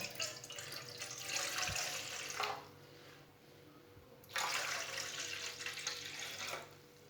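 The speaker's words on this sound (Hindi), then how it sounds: "2 गिलास पानी डाल लेंगे।" Water poured from a steel glass into a cooking pot for carrot murabba, two distinct splashing pours a couple of seconds each separated by a quiet gap, close and fairly loud, with no speech.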